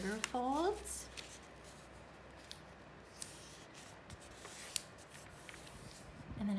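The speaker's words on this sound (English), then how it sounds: "you're gonna try to crease it as you go" Paper folded and creased by hand while making a mini zine, soft rubbing and sliding with a few sharper crinkles, close and quiet, a voice speaking briefly at the start.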